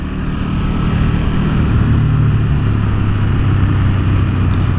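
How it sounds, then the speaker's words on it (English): A KTM 1290 Super Duke R motorcycle engine drones loud and close with a deep, steady throbbing roar that builds gently under acceleration, with no voices over it. "I love this engine note"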